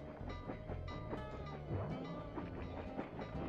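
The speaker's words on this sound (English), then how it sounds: "Are you telling me the train's right behind me again?" Train in the Sly 2: Band of Thieves video game rolling up close behind, a continuous rumble with rhythmic clacking wheels and metallic creaks, moderately loud and without speech.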